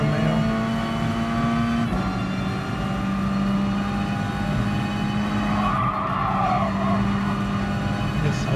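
An Alfa Romeo GR.4 race car in Gran Turismo Sport screams through fast turns with a steady high engine whine, gear changes shifting the pitch and brief tire squeal as the car slides, with faint speech beneath.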